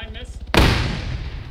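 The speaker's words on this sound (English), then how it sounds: "It looks like that BMP is shooting at you, so be careful." A single heavy BMP-2 cannon shot in ARMA 3 booms suddenly and loudly after quiet radio-style chatter, then trails off in a long rumbling echo.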